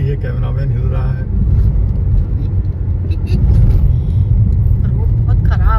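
A car travels a rough, badly damaged road between Gurugram and Greater Noida, with loud, continuous rumbling road and engine noise heard from inside the cabin, rising and falling with the bumps.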